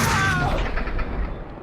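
Burst of gunfire in the video game Max Payne 2, a loud booming volley that fades quickly into a reverberant tail, with a brief clatter at the end.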